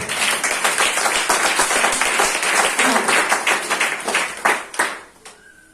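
A church congregation claps hard and continuously in a fast, lively rhythm, with loud clustered hand claps and faint voices, tapering off near the end.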